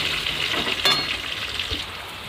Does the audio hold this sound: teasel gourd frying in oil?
yes